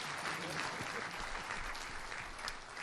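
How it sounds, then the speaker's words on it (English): A large symposium audience in Kigali applauds steadily, a dense wash of clapping that holds at an even level throughout with faint murmuring underneath. "ladies and gentlemen, the warmest applause for Jendai Fraser"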